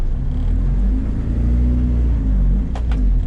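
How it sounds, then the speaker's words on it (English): A right-hand-drive Acura Integra with a K20 engine idles at a drive-thru, a loud, steady low rumble close by with faint higher clicks near the end. "I always worry that my car sounds louder at the speaker"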